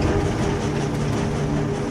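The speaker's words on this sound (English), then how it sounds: "A train grinds to a halt inside Auschwitz for the first time." A train at Auschwitz in June 1944 rumbles heavily, with a steady loud low mechanical roar and faint wheel clatter and no speech.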